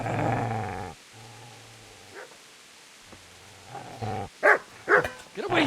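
A dog in the medieval game Kingdom Come Deliverance gives a loud growl for about a second, then a short pause, followed by several sharp barks and yips close by, with whimpering sounds between them.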